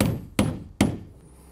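Two sharp hammer strikes on a nail starting a screw hole in wood, evenly spaced and loud at close range, each with a brief ringing decay.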